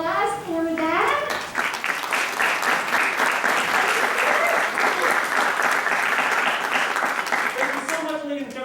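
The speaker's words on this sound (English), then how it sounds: "let's give a big round of applause for that" An audience at a school chorus concert breaks into sustained, loud applause with dense clapping that carries on for several seconds before fading.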